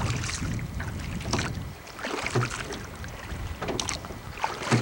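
A small boat moves across Fool Hollow Lake in Show Low, Arizona, with steady wind and motor rumble, splashes and wind buffeting the microphone throughout.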